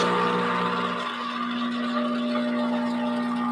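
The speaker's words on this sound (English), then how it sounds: "So you can hear the little bit of sputtering." Espresso-style coffee machine spluttering during a group flush: a steady hissing, gurgling rush with a constant mechanical hum underneath, close and fairly loud, continuous for a few seconds.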